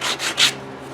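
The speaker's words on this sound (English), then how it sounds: "Then I'll just use my sanding pad" A sanding pad rubbing over a chipped wooden guitar fretboard, three quick close-up scratchy strokes in succession followed by a faint trailing rasp.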